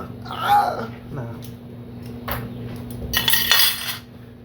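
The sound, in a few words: handling cutlery: plastic spoon, forks and knife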